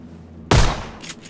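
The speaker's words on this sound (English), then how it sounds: "There's another guy shooting at me." A single loud, sharp gunshot in PUBG Battlegrounds, close by, with a booming attack and decaying echo, followed by faint rattling.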